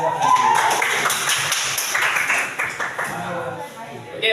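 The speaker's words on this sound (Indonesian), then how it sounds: "Tepuk tangan buat Nali." Students clapping in a classroom, a brisk round of hand claps with a teacher's voice talking over part of it.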